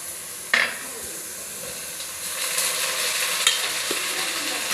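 Garlic and onion sauté in a pan for a dried-fish gravy, a soft steady sizzle that opens with a sharp utensil clank and swells slightly later, with a few more faint scrapes.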